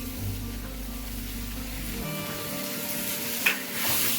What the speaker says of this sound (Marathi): आलं लसूण पण व्यवस्थित भाजून घ्यायची